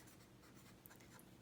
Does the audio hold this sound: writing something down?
yes